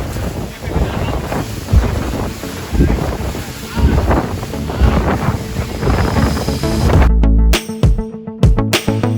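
A speedboat races across choppy Caribbean sea off Cartagena with heavy wind buffeting, rhythmic slaps and thumps as the hull hits waves, ending in sharp jolts.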